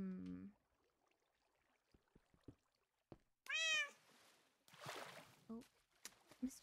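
A Minecraft cat meows in a few distinct cries, one loud and close in the middle, over sparse game effects and light clicks, with a short bit of talk at the very start.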